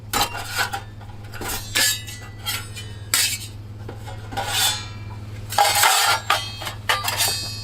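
A mixing knife scrapes and clacks against a metal pan while joint compound gets worked, giving irregular bursts of gritty scraping and metallic taps separated by short pauses, close and fairly loud.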